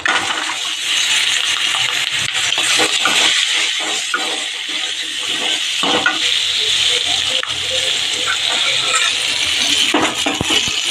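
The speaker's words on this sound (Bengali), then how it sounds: "এবার আমি এই তেলে একটু কালো জিরে দিয়ে দিয়েছি এবার আমি পেঁয়াজটা দিয়ে দেবো" Onion sizzles and fries in hot oil seasoned with black cumin, a loud, steady crackling hiss broken by scattered pops and stirring clatters, with no voices.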